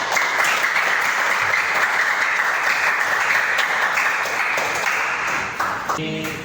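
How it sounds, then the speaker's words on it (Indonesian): A closing round of audience applause fills the room, a dense, loud, steady wash of many hands clapping together that thins slightly in the last moments. "Kita aplaus untuk kita semua."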